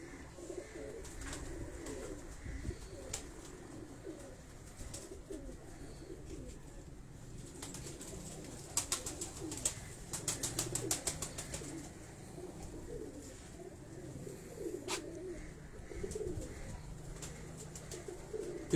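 Soft cooing from a male pigeon repeats in low, rolling calls against faint background noise, with a brief flutter of sharper sounds near the middle.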